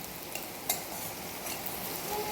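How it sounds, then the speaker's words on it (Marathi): Guar beans fry in hot oil in a pan on a gas stove, giving a steady, fairly quiet crackling sizzle with a few sharper pops and light stirring scrapes, and no voices. "गवार चांगली तेलामध्ये अशी चटचटीत भाजत आहे"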